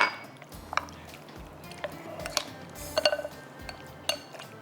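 Raw chicken being mixed by hand with tomato paste in a bowl for a marinade, giving soft wet squelches and scattered light clinks against the bowl, fairly quiet and irregular.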